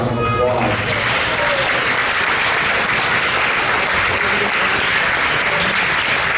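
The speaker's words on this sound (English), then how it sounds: "So let's give you guys a round of applause." Audience at a school production of Willy Wonka Jr. applauds steadily in a dense, continuous wash of clapping that fills the room from start to finish, with a few voices mixed in near the beginning.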